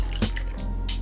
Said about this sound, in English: Pour into a glass and your refreshing Sharbat-e-Mohabbat is ready.